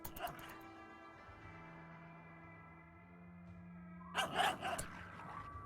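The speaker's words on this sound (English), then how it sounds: "That's a lot of little terriers." Yorkshire terriers let out a short cluster of yips and whimpering barks near the end, after several seconds of steady droning tones with only a faint sound at the very start.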